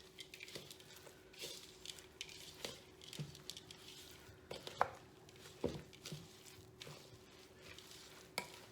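Ground burger meat is worked thoroughly by hand in a bowl, giving soft, wet squishing and patting sounds that come in uneven pulses, close and quiet, with no talking.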